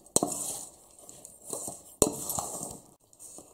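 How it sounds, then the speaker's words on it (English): Melted butter being worked into an apple crumble topping with a utensil in a clay tray, giving a few sharp clinks and scraping strokes in short bursts, close and moderately quiet. "Then add melted butter and mix it nicely."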